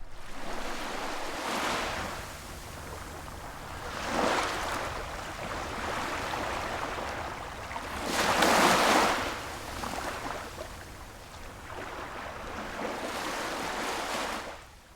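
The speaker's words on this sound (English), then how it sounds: "As darkness came, Shahar listened to the ocean and thought of home." Ocean waves roll in and wash out in slow swells, with a broad steady surf hiss beneath louder breaking crests every few seconds, heard alone with no voices.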